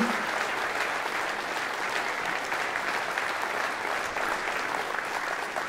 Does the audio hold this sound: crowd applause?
yes